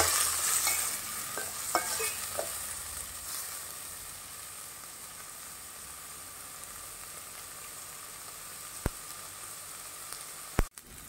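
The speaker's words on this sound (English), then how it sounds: "We'll add tomato and green chili and we'll saute it for a while." Onion, tomato and green chili sauté in a pan for a Goan breadfruit caldine. Stirring and clattering come first, then a quieter steady sizzle, with a couple of sharp utensil knocks near the end.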